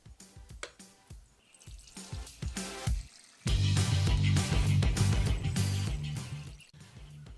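Two cups of water pour and splash onto Flex Seal coated terry cloth, starting with scattered drips and trickles before turning into a steady, louder gush close by.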